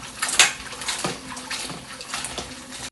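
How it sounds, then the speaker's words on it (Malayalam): Vegetables are washed in water in a kitchen vessel, with short splashes, sloshing and light clinks of metal close by and no voices. "അപ്പോൾ ഇത് ഞാൻ ഇതൊന്ന് കഴുകിയെടുക്കട്ടെ കേട്ടോ"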